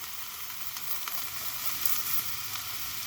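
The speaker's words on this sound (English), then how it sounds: "So now I'm going to add in half a cup of dried lentils." Chopped vegetables sizzle steadily in a hot pan as dried lentils go in, with a continuous frying hiss and faint stirring scrapes throughout.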